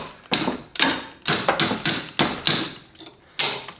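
Light metal taps from a crescent wrench seating a brake part on a 1995 Mustang with Cobra brakes, about a dozen sharp close knocks in an uneven rhythm, loud and alone.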